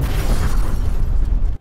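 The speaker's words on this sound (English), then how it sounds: "I left explosion five as it is and lined it up where I like the sound of it. I faded in the rumble for the takeoff." An explosion sound effect with layered rumble for a superhero takeoff, a loud, dense, sustained boom that rolls on for over a second before cutting off abruptly.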